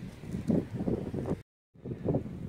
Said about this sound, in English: wind's beginning to die down a bit now